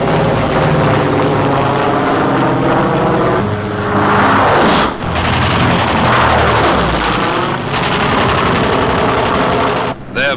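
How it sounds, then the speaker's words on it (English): WWII P-47 Thunderbolt fighter planes peeling off to intercept enemy fighters, a loud, continuous propeller-engine roar that swells and shifts as the aircraft pass. "the Thunderbolts peel off to intercept,"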